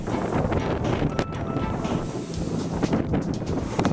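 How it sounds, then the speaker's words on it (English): A strong headwind roars across the microphone while cycling a country road between Illinois towns, producing steady loud buffeting gusts with no talking. "Nice strong headwind,"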